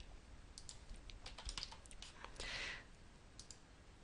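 Rapid clicking of keys on a computer keyboard as a username and password are typed into a login page, a quick irregular burst of taps with a brief louder flurry near the end.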